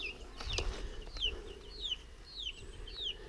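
Young chickens in an outdoor poultry pen, soft clucks and a run of rising chirping calls over low background noise, fairly quiet and close.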